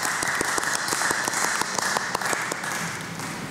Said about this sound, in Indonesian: mari kita memberikan tepuk tangan yang meriah menyambut keempat